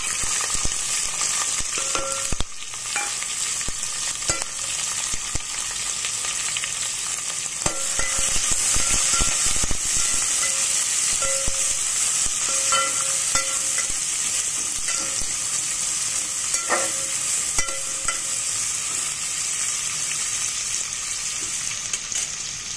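Chopped onions and green chillies fry in hot oil for a mutton dalcha, a dense, continuous sizzle that stays even throughout, broken now and then by faint clinks and stirring scrapes.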